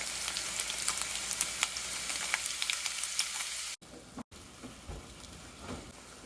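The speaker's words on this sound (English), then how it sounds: "this is the hamburger and the sausage cooking together" Hamburger and sausage sizzle together in a pan of chili meat with a steady, close crackle and fine popping grease, briefly cut by a moment of silence.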